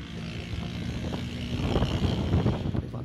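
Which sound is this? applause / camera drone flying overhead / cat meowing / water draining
camera drone flying overhead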